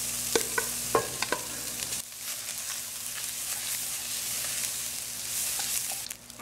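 Rice stirred into salted cod in a pot, a few sharp clinks and scrapes, then a steady low sizzle with faint stirring that carries on to the end.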